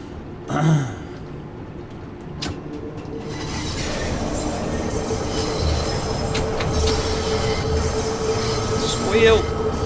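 Train wheels squeal against the rails as railcars roll past, a sustained metallic screech over rumbling carriage noise, with a brief voice at the start.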